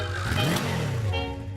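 A BMS Mallorcan motorcycle engine runs close by with a steady mid-pitched idle, a brief rev rising and falling in pitch partway through before settling back to an even, continuous drone.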